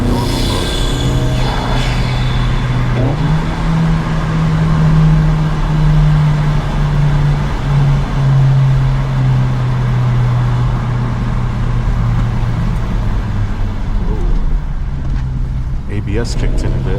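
A Honda Civic Si with about 250 wheel horsepower pulls hard at high RPM, its engine drone steady and loud inside the cabin as the pitch steps up, then eases toward the end.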